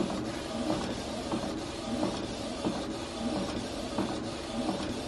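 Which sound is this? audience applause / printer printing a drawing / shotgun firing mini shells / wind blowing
printer printing a drawing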